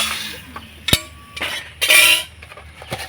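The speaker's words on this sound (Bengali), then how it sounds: "এইভাবে করে তাড়াতাড়ি কিন্তু থালাটা ঝাঁকিয়ে নিতে হবে" A metal plate rattles and clinks as it is shaken while puffed rice (muri) fries on a stove, without sand. Short metallic clanks and scraping bursts come close and fairly loud, with no talking.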